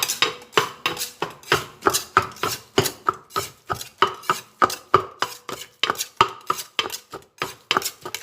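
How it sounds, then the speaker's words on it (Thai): Soaked rice is pounded in a mortar for vegan Thai naem. Around twenty sharp, heavy thuds land in a steady, even rhythm, close and loud, with no voices. "แล้วก็ข้าวที่เราแช่น้ำนะคะ โขกลงไปเลย โขกรวมกันเลย"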